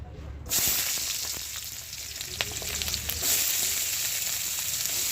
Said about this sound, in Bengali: গোটা পেঁয়াজ, গোটা রসুন ভাজতে হবে